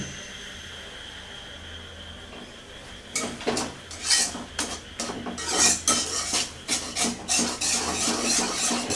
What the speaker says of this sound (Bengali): ঘন ঘন নাড়তে হবে